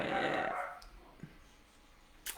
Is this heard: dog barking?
yes